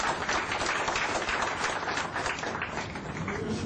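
Audience applause at a climate change discussion panel, a steady dense wash of clapping that fills the room at an even, sustained level throughout without a break.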